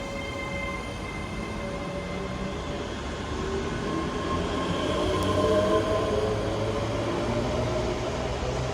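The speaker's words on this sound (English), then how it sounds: "Departing out now is a 1054 Scotrail service from Glasgow Central to Weems Bay." A ScotRail service departs Glasgow Central, heard as a steady rumble with tonal motor whine rising in pitch as the train pulls away from the platform, moderately close and continuous with no talk.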